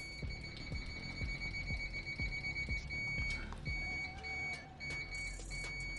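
A TACKLIFE DM10 budget multimeter gives a continuity beep, a high steady tone switching on and off a few times, fairly loud over clicks and handling noise from the test leads.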